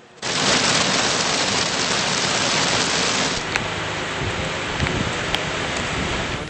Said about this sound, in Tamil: கோடை வாசஸ்தலமான உதகையிலும் திடீரென மழை பெய்தது